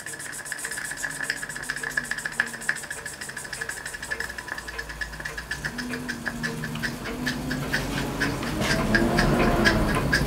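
A scratch-built oscillating steam engine chuffs in a rapid, even rhythm close by, its beat quickening and growing louder and busier toward the end.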